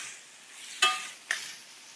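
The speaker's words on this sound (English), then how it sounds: "Love to hear that sizzle." Cubed chicken breast browns and sizzles in a hot pan, a steady soft frying hiss broken by two sharp bursts as the pieces are tossed or stirred; no talking.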